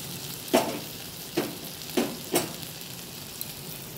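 Poppy seed paste with onion, tomato and spices frying in a pan under a soft continuous sizzle, punctuated by four distinct scraping stirs of a spoon at uneven intervals, close and without talk.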